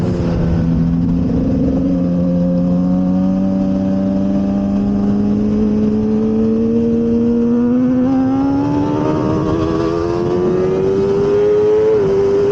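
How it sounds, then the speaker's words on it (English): A heavyweight racing motorcycle in a racing game powers out in third gear, its engine note climbing steadily in pitch as it accelerates, loud and continuous with no talking. "let's see how the bike powers out in third gear"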